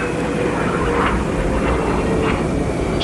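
Space shuttle main landing gear touching down on the runway, heard as a steady loud roar of rushing air and rolling wheels with a few faint swells and no voices.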